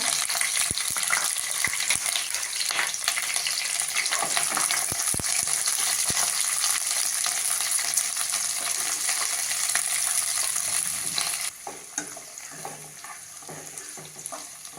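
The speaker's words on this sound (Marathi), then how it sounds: "आपण ढोबळी आणि कांदा फ्राय करतोय" Onion and capsicum sizzle steadily in hot oil in a frying pan, a close, dense crackle with occasional stirring clicks that eases noticeably in the last few seconds.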